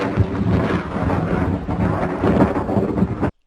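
Thunder cracks and rolls in a loud, continuous broadband rumble lasting about three seconds before cutting off abruptly, with no voices present.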